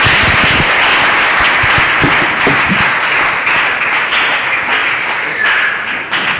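A church congregation claps and applauds together in dense, sustained applause that stays loud and close throughout, slowly thinning toward the end, with no talking over it.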